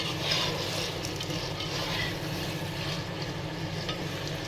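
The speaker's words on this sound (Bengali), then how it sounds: "আর বাকিটা তো এই মশলার সাথে কষানো হইতেছে" Beef sizzles steadily as it is sautéed with spices in a pot for a handi-style beef dish, a continuous close frying hiss with no talking.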